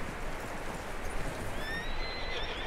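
A horse in Red Dead Redemption 2 whinnies over a steady, noisy background, the high neigh rising toward the end of the short stretch.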